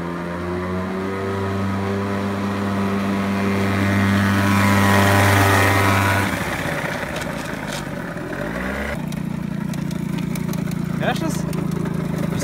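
A Yamaha Aerox scooter's small engine putters steadily with a droning exhaust, its pitch shifting partway through, while a person talks over it.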